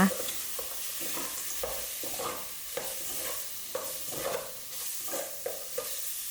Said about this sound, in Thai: ใช้กระดูกซี่โครงหมูนะคะ หั่นล้างเรียบร้อยแล้วนะคะ มักคั่วแห้งนะคะ กับ เครื่องแกงที่เราตำไว้นะคะ ผัดไปเรื่อยๆค่ะ